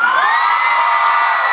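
A large concert crowd at a show in Malaysia cheers and screams, loud and sustained, with high shrill voices layered together throughout.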